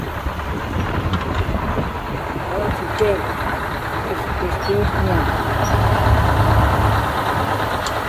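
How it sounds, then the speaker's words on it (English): A Detroit Diesel 3-71 two-stroke engine idles steadily at an antique engine and tractor show, its continuous low mechanical drone running under close admiring speech. "371 Detroit diesel, two-stroke. Two-stroke engine. Still humming away."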